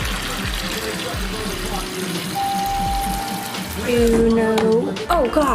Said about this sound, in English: we're gonna put 2 cups of water in a pot